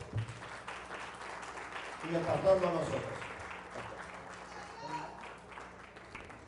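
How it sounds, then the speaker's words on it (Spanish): A church congregation stands and gives a big round of applause to the Lord, clapping swelling midway and then fading beneath a voice speaking over it. "Le damos un aplauso grande al Señor"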